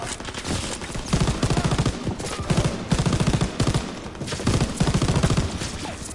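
Machine gun fire from a house in the World War II video game Call of Duty WWII, heard as loud, rapid bursts of shots that repeat several times in close succession with no talking.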